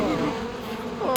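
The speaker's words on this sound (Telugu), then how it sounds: "ఇందులో చాలా తేనెటీగలు ఉన్నాయి" A swarm of cartoon honeybees buzzes in a loud, steady drone that holds close and continuous throughout, with no voices over it.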